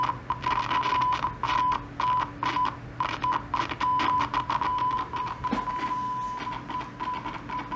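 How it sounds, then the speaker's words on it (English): Dirty push switch on a TEAC MB-20, crackling and scratchy as it is pressed, with bursts of noise over a steady tone heard alone at a faint level. "when I push this down, it's going to sound all crackly"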